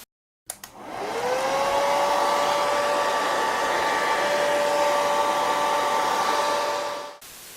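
A hair dryer or heat gun, used to warm an iPhone 6 skin, switches on with a click and blows a steady loud whirring hiss with a rising whine. It runs evenly for about six seconds, then cuts off.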